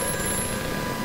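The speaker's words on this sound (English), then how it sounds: "Phone is ringing." In the horror game Amnesia: A Machine For Pigs, a telephone rings with a steady, tonal electric ring held throughout, moderately loud against a low, murky background rumble.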